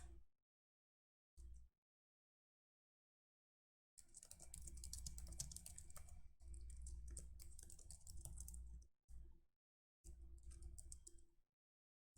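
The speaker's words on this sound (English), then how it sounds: "Excuse-moi for my typing." Typing on a computer keyboard, quiet and close: short bursts of rapid key clicks separated by silent gaps, with a longer run of continuous typing in the middle.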